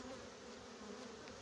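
Honeybees buzzing at a hive during a beekeeping check of a full brood frame, a steady, dense hum of many insects that stays constant and close, with no talking.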